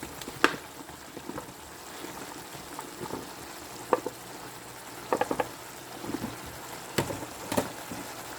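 Mushrooms go into a pan of cooking tofu, giving a steady soft sizzle with scattered sharper crackles and pops close by, and no talking.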